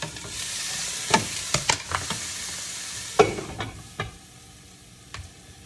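Onions frying in a pan on a home stove, a steady sizzle broken by several distinct stirring scrapes and spoon knocks that fade toward the end.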